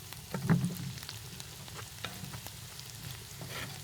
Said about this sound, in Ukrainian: Видно, як вона пулькає під час помішування.